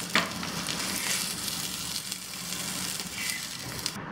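Paneer cubes frying crisp in a pan for a keto paneer fry, a steady close sizzle with faint crackles and a few light scrapes, no voices over it.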